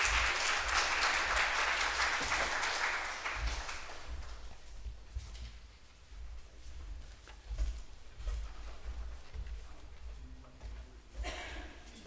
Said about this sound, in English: Let's give a round of applause for Naughty Noah's.